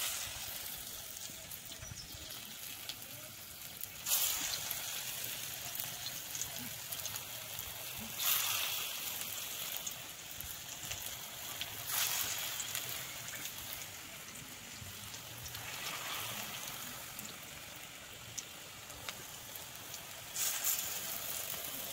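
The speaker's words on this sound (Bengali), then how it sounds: "দিয়ে দিচ্ছি তেল। এখন একটা একটা করে বড়াগুলো দিয়ে দেব।" Malabar spinach leaf fritters frying in hot oil in a wok: a steady, fairly quiet crackling sizzle with brief louder bursts as more battered leaves are dropped in, and no talking.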